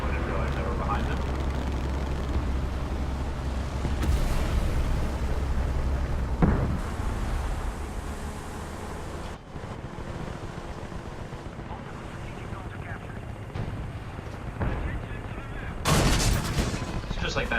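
Tank cannon fire from an IS-2 heavy tank in the War Thunder video game: loud booming shots around the 4, 6.5 and 16 second marks over a continuous rumbling engine and battle din, with a voice talking throughout.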